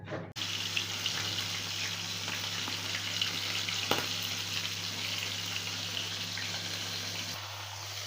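Flour-coated small fish frying in hot oil, a dense, steady sizzle and crackle that starts suddenly and holds evenly at close range, with no talk.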